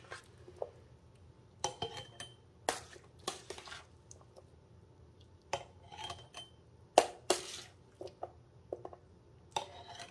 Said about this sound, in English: Actually, we're going to just spoon it in.